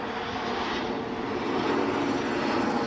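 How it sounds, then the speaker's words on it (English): A British Airways Embraer jet arriving at Edinburgh from London City, a steady broadband engine roar held at a constant loud level throughout, with no voices. "Looks like an Embraer from London City"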